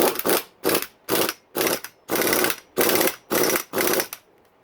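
A power tool set to its lowest setting tightens a nut on a Yamaha YZ250 two-stroke engine, buzzing in eight short, evenly spaced bursts up close, each separated by a brief silence.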